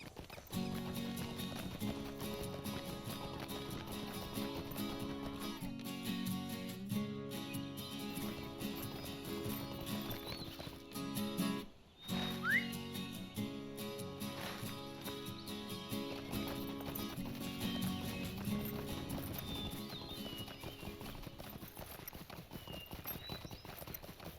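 A swift pony's hooves clip-clop steadily in the Lord of the Rings Online game, a continuous galloping rhythm over game music and ambience, with a brief whinny partway through.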